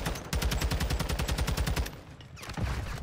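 Rapid automatic gunfire from a competitive video game match, a long sustained burst of evenly spaced shots, loud and close, breaking off briefly before a shorter second burst.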